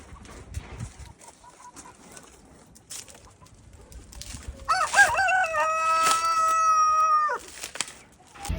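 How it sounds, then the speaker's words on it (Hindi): A large rooster lets out one drawn-out, strained crow that rises and then holds. Quiet rustling and faint background noises come before it. "अच्छा वो मुर्गा है बड़े वाला। ये मुर्गा है"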